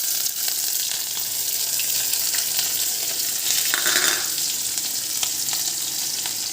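Onion and green chili frying in hot oil with radhuni spice, a steady loud sizzle and crackle with faint stirring scrapes throughout, close by and with no talking.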